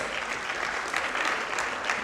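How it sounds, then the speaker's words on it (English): A church congregation claps together in sustained, dense applause, steady and fairly even throughout, with no clear speech over it. "Let's clap hands for Jesus."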